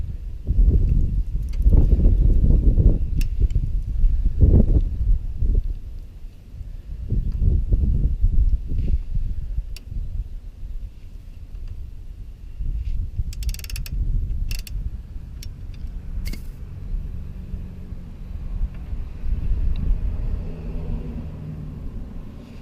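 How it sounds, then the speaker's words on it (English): Oil drain bolt on a Yamaha Raptor 660 being loosened with a long extension: low, rumbling mechanical straining and creaks with a few faint ratchet clicks, close but muffled. "I got a super long extension just for more leverage. I'm going to pop this bolt out."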